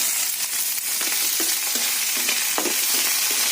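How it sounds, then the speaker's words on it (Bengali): Green chilies and peas frying in oil give a loud, close, continuous hiss with small bursts of crackle as they are moved around, no talking. "কাঁচা লঙ্কা কটাও দিয়ে দিই তেলের মধ্যে"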